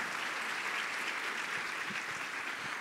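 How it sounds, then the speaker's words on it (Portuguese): A seminar audience gives a sustained round of applause, thick continuous clapping from a crowd, loud and even throughout. "Uma salva de palmas para os dois aqui."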